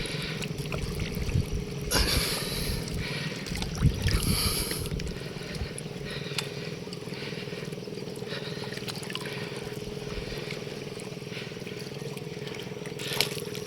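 Boats out on the water off Daanbantayan, Cebu, with a steady low motor hum and rushing water and wind noise running throughout, a few louder swells near the start.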